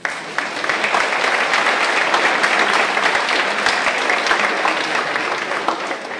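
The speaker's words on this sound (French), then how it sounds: "Je pense qu'on peut les applaudir." Sustained audience applause fills a museum hall during a public lecture in Grenoble, a dense steady patter of many hands clapping for the full stretch without pause.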